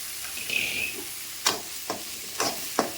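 Four garlic cloves land in a hot pan for a Tamil mango kuzhambu, giving a faint steady sizzle with a few sharp scraping spoon strokes toward the end, no voices.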